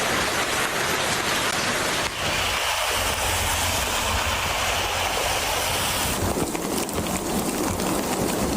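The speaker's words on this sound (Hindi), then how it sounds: "कराची के मुख्तलिफ इलाकों में मौसम सरमा की पहली बारिश।" Winter rain showers fall across Karachi in a dense, steady hiss that stays loud and constant throughout, with a broad wash of noise and a slight shift in tone midway.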